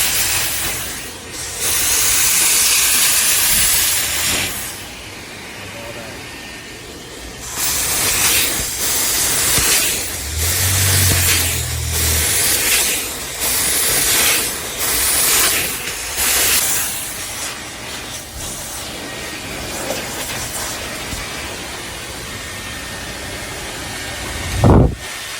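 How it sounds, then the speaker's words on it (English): A steam cleaner hisses in long loud bursts as it works over leather car seats, the sprays starting and stopping repeatedly with brief pauses, close to the nozzle, with no talking. "Let's get the steaming going."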